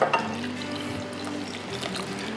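Hot vinegar pickling brine poured into a jar for homemade cowboy candy and dill pickles, a steady liquid splash and trickle running close and continuous for a couple of seconds.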